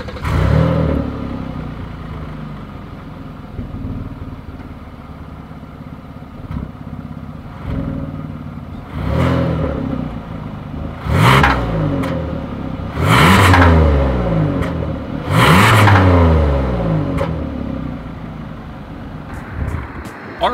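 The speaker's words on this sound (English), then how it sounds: "As always, here is that exhaust clip." A 2020 Kia Telluride with dual chrome exhaust tips idles, then revs repeatedly, with several rising and falling bursts growing louder in the second half, heard close at the exhaust.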